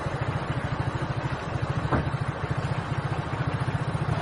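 A motorcycle is ridden while carrying two people for an interview, its engine throbbing in loud, steady, rapid pulses throughout, with one brief higher whine rising over it midway.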